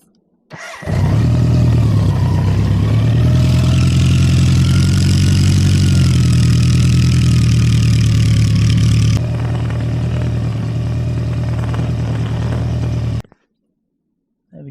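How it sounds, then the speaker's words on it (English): A BMW K100 motorcycle engine starts up and settles into a steady, loud, close idle with a low droning hum, running for about twelve seconds before cutting off abruptly. "now all that's left to do is start the bike, check your levels"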